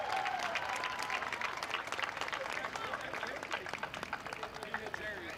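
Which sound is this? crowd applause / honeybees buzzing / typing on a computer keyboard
crowd applause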